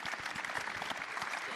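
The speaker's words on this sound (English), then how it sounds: "Round of applause for these three." Applause from a town hall audience with the NFL commissioner and guests, a dense steady patter of many hands clapping at moderate level throughout the brief moment.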